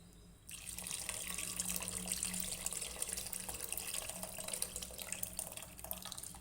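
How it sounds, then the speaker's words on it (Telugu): Water runs steadily into a cooking pot while a tamarind-based chamagadda (taro root) stew is prepared, a continuous close pouring and splashing that starts after a brief silence and lasts throughout, with no talk. "వాటర్ యాడ్ చేసుకుంటున్నాం."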